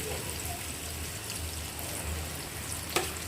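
A ground paste of tomato, chili powder, turmeric, fenugreek, mustard powder and salt sizzles steadily in hot oil as a continuous, moderately quiet frying hiss, with one sharp click near the end.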